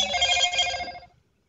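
A mobile phone rings loudly and close for about a second, then cuts off into silence.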